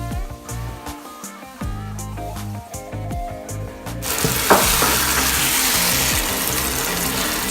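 Bell pepper hits a hot pan of tallow and coconut oil, and a loud, steady sizzle rises after some stirring and clatter, filling the kitchen close up.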